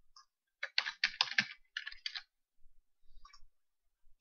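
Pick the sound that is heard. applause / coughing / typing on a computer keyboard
typing on a computer keyboard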